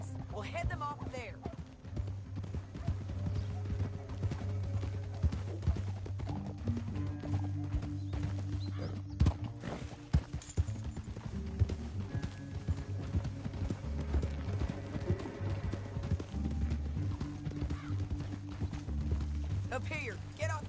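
Horse hooves in the video game Red Dead Redemption 2 clip-clop in a steady trotting rhythm over a low rumbling backdrop, with faint whinnies and mechanical rattling throughout.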